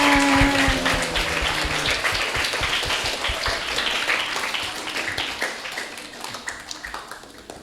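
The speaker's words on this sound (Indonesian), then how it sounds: "Kasih tepuk tangan dong teman-temannya." Children at a Betawi silat school clap together, a dense burst of applause that is loud at first and gradually thins into scattered individual claps.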